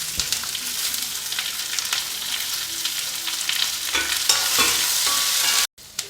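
Sliced onions sizzle and fry steadily in a hot pan for a soya chunks roast, with occasional stirring scrapes over a continuous loud hiss and no talking.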